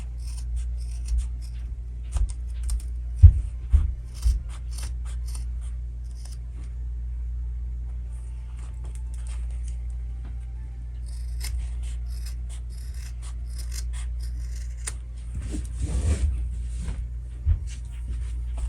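Scissors trim the edges of a sewn fabric pouch made from one piece of fabric, with scattered quiet snips and crisp cuts close by against a low steady hum, growing busier near the end.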